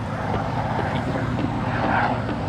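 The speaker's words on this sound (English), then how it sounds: "not on a daily basis you see the presidential helicopter, and there it is" The presidential helicopter Marine One flies overhead near the United States Capitol in Washington DC, a steady rumbling engine and rotor drone that stays even and fairly loud across the whole stretch.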